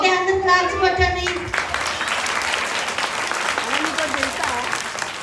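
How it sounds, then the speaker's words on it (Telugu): A children's audience at a holiday Bible school puppet show claps together after a short musical tone fades, the clapping continuing steadily alongside a few faint voices. "ఓకే అందరు క్లాప్స్ కొట్టండి"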